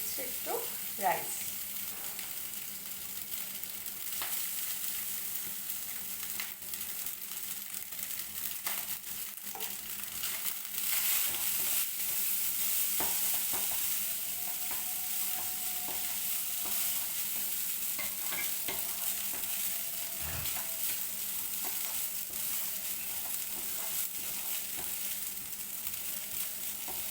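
Paneer and vegetables for a rice bowl fry in a pan, giving a steady sizzle that runs throughout, with frequent scraping and rustling strokes of stirring, close and moderately quiet.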